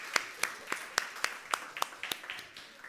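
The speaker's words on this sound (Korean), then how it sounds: "우리 뭐 대단한 건 아니지만 그래도 축하한다고 박수 한번 해줄까요?" A small church worship gathering applauds two young card-draw winners with slow, sparse, evenly spaced claps, about ten distinct near claps in a quiet room.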